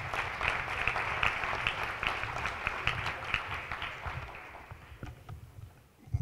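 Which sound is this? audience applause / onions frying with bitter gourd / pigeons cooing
audience applause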